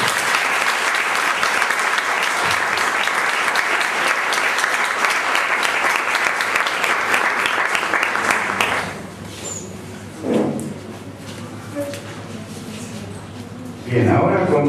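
An audience bursts into loud sustained applause that runs strongly for several seconds, then drops away to scattered claps and murmuring voices.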